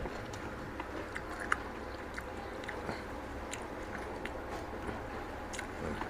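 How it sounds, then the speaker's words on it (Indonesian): Someone eating fried tempeh with rice by hand, soft close-up chewing and squishy bites with occasional small crunches and clicks over a low steady background, no speech. "suapan pertama tempe untuk teman-teman"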